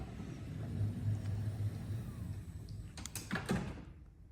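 Power sliding door on a 2016 Dodge Grand Caravan SXT wheelchair-accessible conversion, opened by key fob: a low motor rumble followed by a few sharp clunks and latch clicks near the end.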